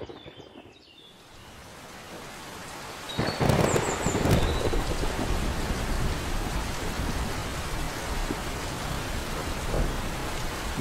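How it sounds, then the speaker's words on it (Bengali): Thunder rumbles and heavy rain pours steadily in a Bengali animated cartoon storm, with a loud crack of thunder a few seconds in and dense rain continuing loud and close throughout. "আমাকে এই বৃষ্টির হাত থেকে বাঁচতেই হবে"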